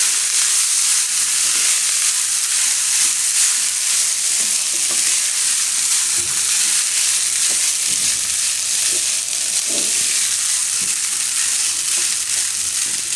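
Cooked rice being stirred and mixed in a pan over a low flame for coconut pulao, with a steady loud sizzle and scraping stir strokes throughout and no talking.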